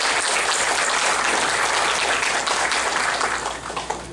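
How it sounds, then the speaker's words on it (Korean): Loud, sustained applause from a large crowd at a committee launch ceremony in the Korea Science and Technology Center, steady throughout and tapering slightly at the end. "크게 박수로 환영해 주신 고맙습니다."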